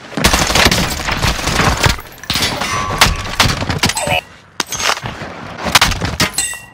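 Incoming gunfire in a video game: loud, rapid bursts of shots come in clustered volleys with short gaps, mixed with occasional metallic pings and clangs.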